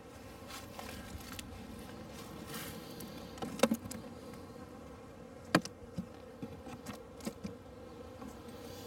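Honeybees at a hive frame weakened after a three-week spring cold spell, a steady close buzzing drone running throughout, with a few sharp knocks and taps of handling the frames.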